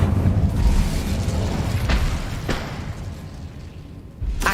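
An Incendio fire spell cast in the video game Hogwarts Legacy comes as a roaring, crackling burst of flame with a couple of sharp whooshing flares and a fresh surge near the end, loud and continuous.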